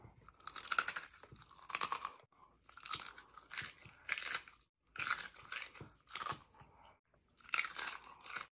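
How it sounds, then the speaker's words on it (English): Loud, close crunching and chewing of Takis rolled tortilla chips coated in spicy hot sauce, coming in repeated bursts of crisp bites with short pauses between, with no talking. "Let's try Takis with spicy Cam's hot sauce."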